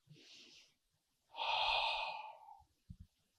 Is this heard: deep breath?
yes